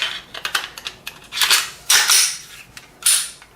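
Glock 48 pistol reassembled by hand, a quick series of sharp metallic clicks and snaps as slide and parts seat into place, close and distinct with short gaps and no talk.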